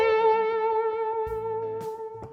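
An electric guitar plays a short major pentatonic lick with bent notes through an effects unit, clear sustained tones ringing close and alone, followed by a few quick picked notes.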